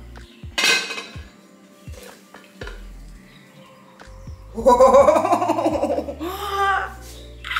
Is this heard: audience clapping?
no